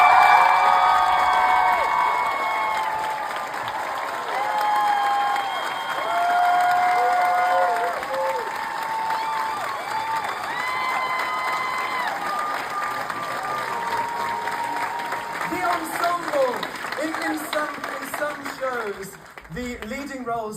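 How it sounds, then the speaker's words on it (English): A theatre audience at a Moulin Rouge musical performance applauds and cheers for the ensemble cast, with sustained loud clapping, whoops and shouts from a large crowd and scattered voices over the top, fading slightly near the end. "Give them a big round of applause."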